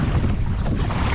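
A fast-moving boat racing across open water, with steady loud rushing wind and water noise filling the whole brief stretch, no talk over it.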